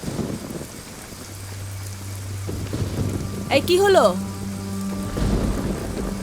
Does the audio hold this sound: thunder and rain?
yes